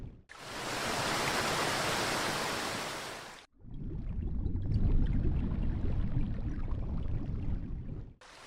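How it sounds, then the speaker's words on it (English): A white waterfall pours down from high cliffs in the wild, a loud, steady roaring wash of water that cuts abruptly after a few seconds into a deeper, rumbling rush of falling water, with no voices. "The white waterfall pours down from the high cliffs."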